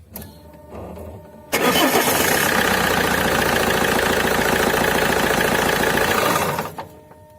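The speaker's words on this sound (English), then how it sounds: "So when I turn on my engine" An Alfa Romeo 156 with a variable geometry turbo cranks briefly and then catches, settling into a loud, steady, close-up idle that runs several seconds before cutting off.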